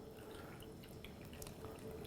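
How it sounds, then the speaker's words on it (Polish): Brine is poured over cucumbers packed for pickling, a continuous soft splashing and trickling of liquid that stays steady and fairly quiet throughout. "I zalewamy solanką."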